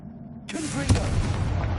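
A Confringo fire-blast spell explodes in Hogwarts Legacy: a sudden booming burst followed by a sustained rumbling roar with crackling debris, right after a spoken spell name.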